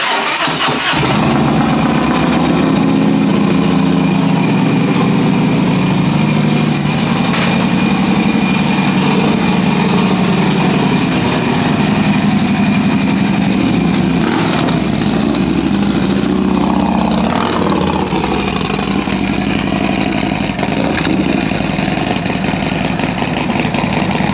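A Harley-Davidson Road Glide motorcycle engine runs loud and close as the bike is readied for loading onto a dually pickup, a steady rumbling drone that holds for the whole stretch with no break.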